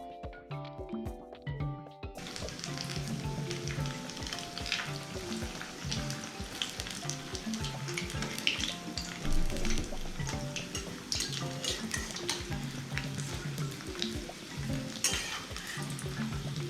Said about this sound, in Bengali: এটা একদম কম আগুনে ভাজা হবে